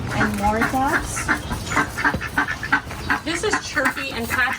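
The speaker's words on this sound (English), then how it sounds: "And more ducks." Ducks quack repeatedly and close by, overlapping in a busy, irregular chorus with a person speaking at the same time.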